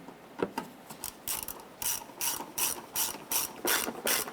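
A ratchet clicks rapidly and rhythmically in bursts, up close, while the rear parking sensor bolts on a 2015-2020 Cadillac Escalade are tightened a quarter turn.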